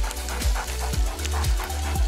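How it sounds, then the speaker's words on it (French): A dog pants rapidly in a bath, with a steady run of quick breaths and a few soft whimpers at close range. A low background hum runs underneath. "C'était un chien, ça?"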